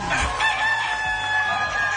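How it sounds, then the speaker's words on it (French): A rooster crows during a French television game show, a drawn-out cock-a-doodle-doo heard loud and clear over studio background noise, lasting the whole moment. "Est-ce qu'on vient d'entendre le coq chanter?"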